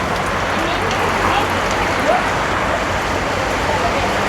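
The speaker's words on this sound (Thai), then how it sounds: "ฝนตกเด้อฝนตก" Steady, dense rain pours down outdoors at a house building site, a loud continuous wash of drops that holds without pause.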